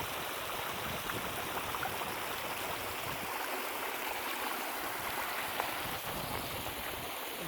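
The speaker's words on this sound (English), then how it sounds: "Got this interesting creek running through here." A creek runs past the Fetterman Massacre monument site, a constant soft rushing and burbling of flowing water heard close and alone, fairly quiet and even throughout.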